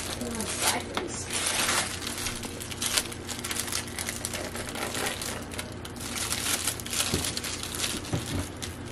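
Plastic film peeled off packaged corn gives sustained crinkling and tearing, steady and fairly close, alongside people talking.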